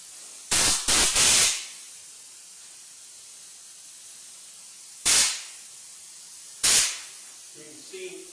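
A spray gun shooting Second Skin Spectrum sound-deadening coating lets out short hissing bursts: three quick blasts close together, then two more spaced apart, with quiet room tone between them.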